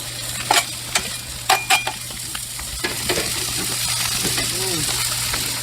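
Bacon, onions and garlic sizzle on a Blackstone griddle, opening with a few clanking spatula taps and scrapes, then settling into a steady, loud, close frying hiss.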